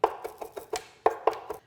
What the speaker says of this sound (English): You can certainly just do the chopping.